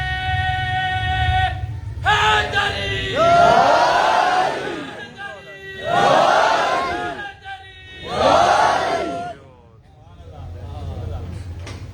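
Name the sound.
crowd chanting religious slogans at a majlis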